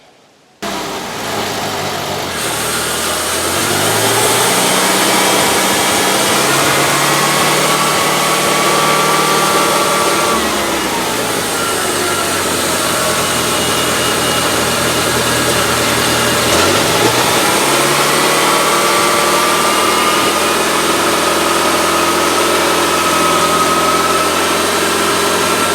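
A homemade sawmill's engine runs loud and steady as it cuts through a log, its drone holding throughout with a few dips and shifts in pitch as the load changes; no one speaks.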